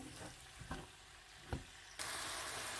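Large onion frying with meat in a pot for okra stew, a soft sizzle with a few stirring knocks, then a louder burst of hissing near the end.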